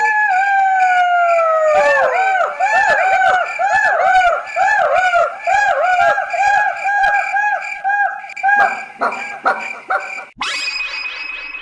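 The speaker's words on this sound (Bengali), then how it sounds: "সেখানে বাস করে কিছু শিয়াল। রাত গভীর হলেই তারা ডাকাডাকি শুরু করে দিত।" Several jackals howling in a dark jungle late at night, their loud, wavering calls rising and falling and overlapping in a chorus, then ending with a few sharper, harsher cries.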